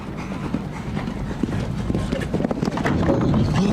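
Show jumping horse Anthem ridden by Laura Kraut in a grand prix round, rhythmic hoofbeats thudding on the arena footing amid crowd noise and an announcer's commentary.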